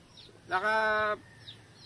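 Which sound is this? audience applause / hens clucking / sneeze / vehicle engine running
hens clucking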